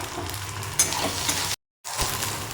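Shrimp masala with tomato, coriander and spices is stirred and sizzles steadily in hot oil in a pan, a constant frying hiss with scraping strokes and one brief cut to silence.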